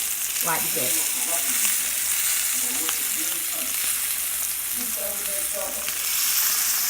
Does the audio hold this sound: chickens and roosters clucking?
no